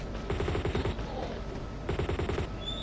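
Two rapid bursts of M16 automatic rifle fire in Tomb Raider: The Resurrection, each lasting under a second, separated by a short pause, loud and close.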